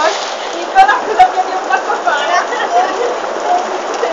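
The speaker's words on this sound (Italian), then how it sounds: "mi piove dentro nei sandali" Steady rain patters on a surface close by, with a couple of sharper drip-like taps near the start.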